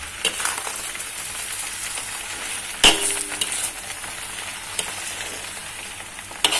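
Rice vermicelli with squid and soy sauce being stirred while it fries in a pan, a loud, close, continuous sizzle with scraping strokes and a single sharp metallic clank of the utensil against the pan.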